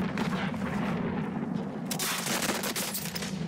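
Sustained gunfire in the video game Call of Duty Warzone, a steady loud rattle of shots with a denser burst of crackling in the second half, no voices.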